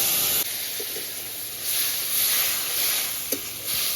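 Vegetable curry poured into a hot pan after cumin tempering, bursts of hissing sizzle rising and falling over a few seconds with a sharp clink partway through.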